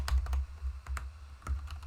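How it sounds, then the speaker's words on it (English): Someone types on a loud computer keyboard while coding, producing close, irregular clacking keystrokes over a low background hum. "sorry for the loud keyboard"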